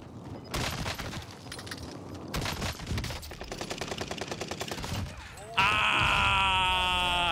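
Shotgun blasts from a Gallo in Call of Duty Warzone on Rebirth Island, a burst of loud repeated booming shots, then a sustained ringing electronic tone, with a voice talking over the firing.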